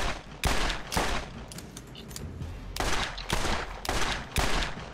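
Repeated bursts of gunfire from a reusable-ammo gun in Borderlands, Zombie Island, loud and close with short gaps between volleys, no talk.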